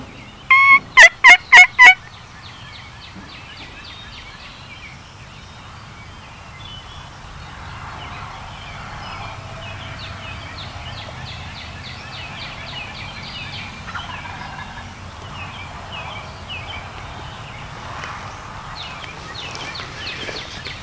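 A wild turkey gobbles in a rapid burst near the start, then quieter birdsong and faint distant turkey calls carry on over steady outdoor ambience in New York woods.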